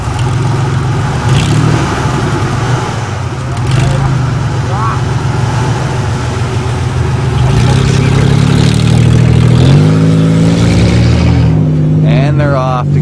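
A 1977 Dodge Tradesman van and a full-size Ford van idling and revving before a farm race, loud and close, with engine pitch rising and falling under steady talk.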